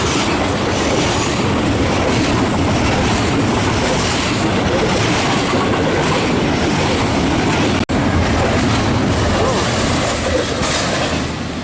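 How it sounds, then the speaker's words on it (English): A very long train passes close by in the desert with a loud, steady rumble and rhythmic clickety-clack of wheels, and faint wheel squeal runs throughout. "Now that's the biggest and longest train I've ever seen."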